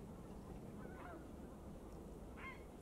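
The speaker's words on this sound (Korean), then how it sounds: "대표적인 겨울 철새인 큰 기러기부터 알아보도록 하겠습니다" Wild geese honking at Wangsong Lake in early spring, two faint, distant honks a second or so apart over a steady outdoor wind and background hiss.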